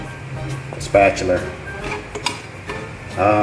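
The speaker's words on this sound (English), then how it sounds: "Stir that up with a spatula." A spatula scrapes and clinks against a metal pot of sinigang in uneven strokes, close by, with faint kitchen background noise.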